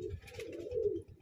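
A pigeon coos softly in a low, rolling murmur, fairly quiet and close, with no other voices.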